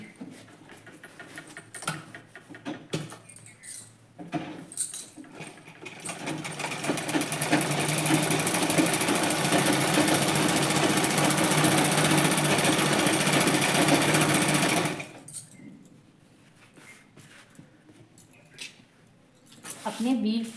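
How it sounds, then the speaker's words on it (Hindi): A sewing machine stitches fabric from an old salwar, running loud and steady for about seven seconds, with quieter handling and rustling before and after. "मैं इसमें एक बार इस साइड से स्टिच लगा दूँगी।"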